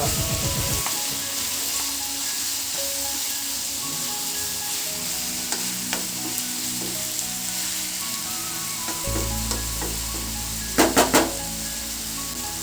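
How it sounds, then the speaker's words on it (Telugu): Chicken with green chilli paste fries in oil, a continuous dense sizzle punctuated by occasional spoon scrapes and a quick cluster of metallic taps near the end, with no talking. "ఆయిల్లో ఫ్రై అవ్వాలి"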